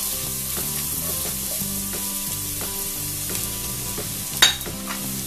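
Thinly sliced onion fries in ghee over a medium flame for ghee rice, a steady, close sizzle and crackle under gentle background music, with one sharp stirring scrape near the end.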